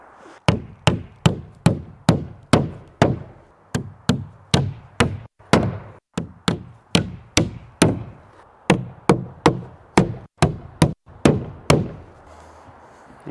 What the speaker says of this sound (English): just imagine I'm nailing a final little strip of wood on the roof here